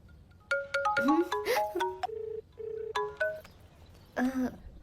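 A melodic phone ringtone plays a chain of bright electronic tones, pausing briefly before sounding again, clear and close.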